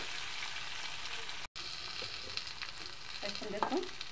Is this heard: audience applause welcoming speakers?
no